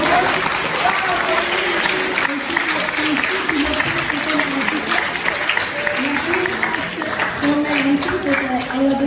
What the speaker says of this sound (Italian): va un applauso grandissimo a tutti voi